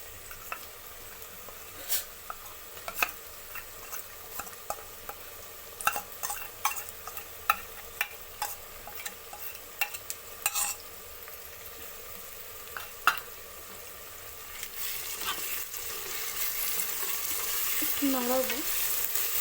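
Spice paste hits frying onions in a pan for Bengali chicken curry, sharp scraping stirs and clacks of a spoon at first, then a rising, steady sizzle takes over toward the end.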